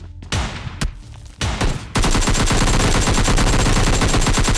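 An S686 double-barrel shotgun fires in a battle royale video game, a few sharp booming shots near the start followed by a dense, continuous burst of rapid gunfire that runs to the end.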